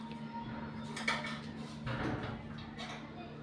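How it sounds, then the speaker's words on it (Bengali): Muri ghonto, a dish of fish head and Gobindobhog rice, being stirred with added sugar in a pan: soft scraping and clinking of a spoon against metal, quiet and close over a steady low hum. "এবার চিনি দিয়ে আবারও ভালো করে নাড়াচাড়া করে নেব"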